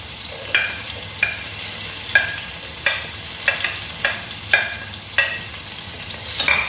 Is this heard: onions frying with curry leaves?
yes